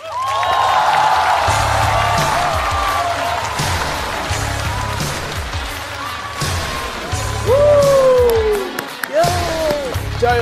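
A studio audience at a Chinese comedy roast show bursts into applause and cheering, a loud, dense wash of clapping that carries for several seconds with voices and music running underneath.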